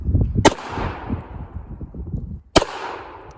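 Two sharp handgun shots ring out about two seconds apart, each a loud crack with a fading echo, as a person talks underneath.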